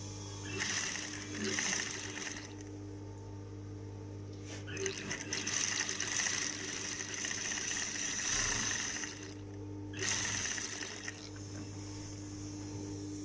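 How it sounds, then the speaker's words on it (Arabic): A sewing machine stitches a cap in close, rapid mechanical bursts with pauses between runs, beneath a steady low hum, and someone talks over parts of it. "غادي نكمل عليها خياطة وحدة ديريكت"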